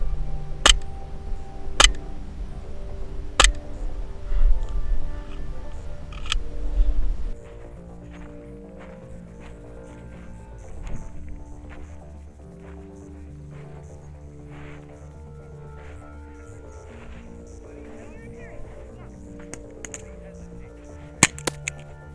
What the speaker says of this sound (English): I'm doing little pop shots.